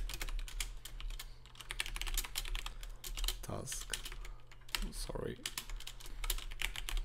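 Rapid, continuous typing of code on a computer keyboard, close and clicky over a low hum, with a person briefly speaking partway through.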